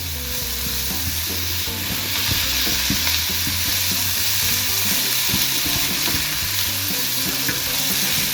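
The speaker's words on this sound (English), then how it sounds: "You keep on stirring a little bit like this" Ground beef stirred in a pan with beef stock, a steady loud sizzle under repeated scraping and clattering of a utensil against the pan for the whole stretch.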